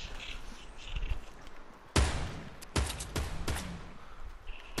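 Fortnite gunfire in a battle royale match: several sharp, loud shots crack out in an irregular burst, each ringing briefly, over a steady game background.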